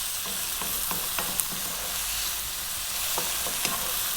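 Chicken fried rice stir-fries on high heat, with a constant sizzling hiss and repeated light scraping of a utensil as the ingredients are kept moving in the pan.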